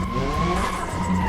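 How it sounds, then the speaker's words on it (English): Tires squeal continuously as a custom drift car slides in BeamNG Drive, a loud, sustained screech over the engine's drone. "I want to see if we can drift into the parking lot here."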